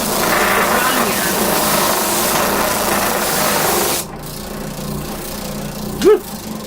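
A homemade 6-inch sanding drum grinds down gouged wood, a steady loud buzzing whine for about four seconds before cutting off, followed by quieter background and a short exclamation.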